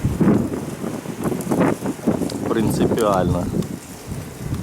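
Strong wind of force five or more buffets the microphone outdoors in a yard where pigeons are flown, in loud uneven rumbling gusts, while someone speaks briefly over it.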